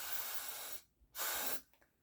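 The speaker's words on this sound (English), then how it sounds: "I'll go ahead and use my got-to-be spray one more time and spray the hairline" Got2b hair spray hissing onto a wig hairline in two close bursts, a long spray followed by a shorter one after a brief pause.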